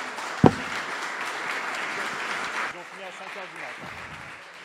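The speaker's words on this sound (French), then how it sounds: "Merci Brian, parce qu'on peut l'applaudir." Audience at an NFT collectors' meetup breaks into a burst of sustained clapping that starts with a sharp single clap, then fades as a voice talks over the tail of the applause.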